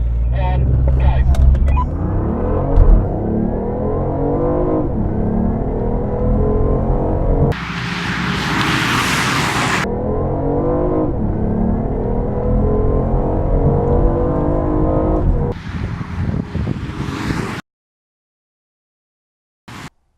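A BMW i8 launches with launch control in a drag race, a rising engine note climbing in steady passes alongside another car, loud and close with a burst of wind noise partway, ending abruptly in silence; a voice is heard briefly.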